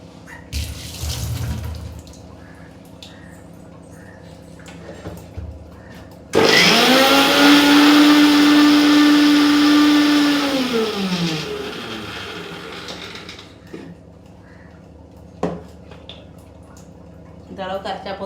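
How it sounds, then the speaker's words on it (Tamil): A mixer grinder grinding a paste with added water whirs loudly and steadily for about six seconds, its motor pitch sagging before it stops; quieter kitchen sounds come before and after. "கொஞ்சம் தண்ணி பிடிச்சி அரைச்சிக்கலாம்"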